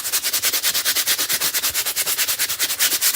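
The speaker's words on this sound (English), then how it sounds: "Just lightly sand." A flexible foam sanding block is rubbed by hand over a wooden craft piece in quick, even back-and-forth strokes, a steady rhythmic scratching that is close and continuous with no voices.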